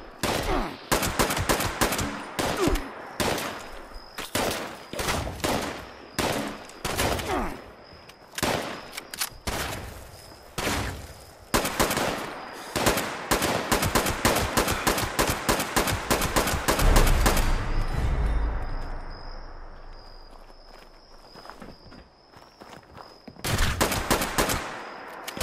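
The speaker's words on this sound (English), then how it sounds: "Person with a minigun." Long, loud streams of rapid minigun fire in Fallout 76, nearly continuous bursts broken by short pauses, tailing into a fading rumble before a final burst.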